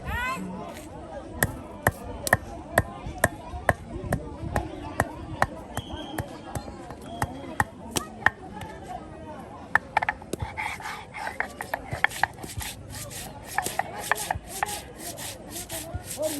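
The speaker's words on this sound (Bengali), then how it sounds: "আর এখন লং দালচিনি এগুলি কিন্তু আপনার এই যে পাটায় ফেসে নেওয়া হচ্ছে" Whole cloves and cinnamon are ground by hand on a traditional stone slab at a village food festival, giving a steady run of sharp knocks and scraping rubs close by, with a voice speaking now and then.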